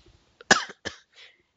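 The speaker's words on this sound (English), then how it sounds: "Had to cough again." A single sharp cough with a shorter follow-up cough and a faint throaty exhale, close by, with near silence around it.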